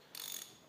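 A ratchet tightens bolts on a Volvo Penta MD2010 marine diesel engine during a rebuild, giving a brief burst of rapid metallic clicking that lasts about a third of a second and then stops, heard close and alone.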